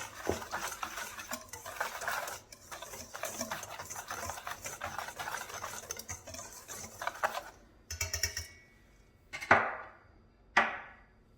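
A seasoning mixture that includes smoked paprika is stirred in a bowl, giving steady close scraping and tapping of a utensil, followed by a few sharp knocks against the bowl near the end; no talking.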